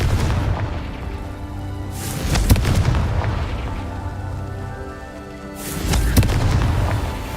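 A Confringo fire spell goes off in the Hogwarts Legacy video game as two heavy booming blasts a few seconds apart, each with a rumbling tail over a constant low background hum.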